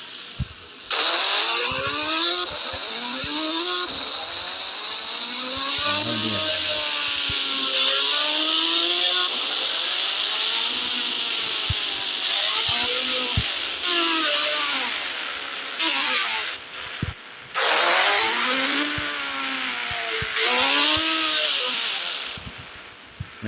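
An engine from the mobile game Indian Bike Driving 3D revs up and down over and over with a whining, rising and falling pitch, loud and continuous and without speech.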